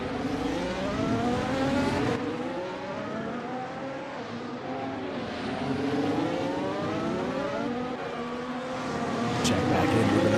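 Racing-game cars lapping Hockenheimring, through the Parabolica corner, with a steady engine roar whose pitch rises and falls as cars pass and shift, lasting throughout under a commentator's voice.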